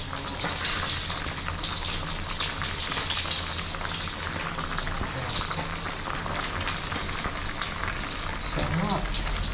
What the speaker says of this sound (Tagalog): Hintayin lang natin maluto itong prito.